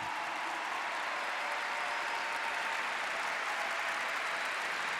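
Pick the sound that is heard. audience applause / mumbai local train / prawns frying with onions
audience applause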